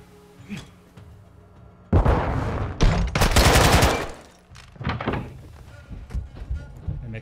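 Bursts of gunfire in the Modern Warfare II (2022) campaign, a loud dense volley running for about two seconds midway, with scattered shots and thuds before and after amid game ambience.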